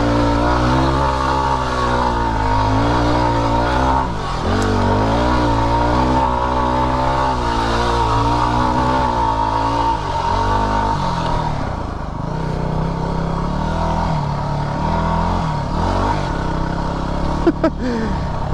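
A Yamaha WR250R dirt bike engine revs hard in first gear, bouncing off the rev limiter in a loud, steady, close drone with rising and falling pitch.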